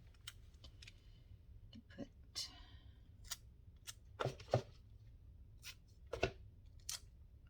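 Scissors cut paper away from the pages of an altered book, producing a few sparse, crisp snips and clicks close by, separated by quiet gaps.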